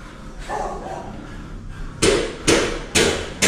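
Several dogs of mixed breeds, a bulldog among them, bark from behind a house, a few loud sharp barks landing in the last half of the moment over quieter background noise.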